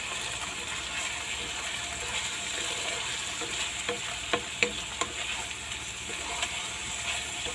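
Chicken legs fry in a pan with a continuous close sizzle and crackle, broken by a few sharp scrapes and clicks of stirring midway.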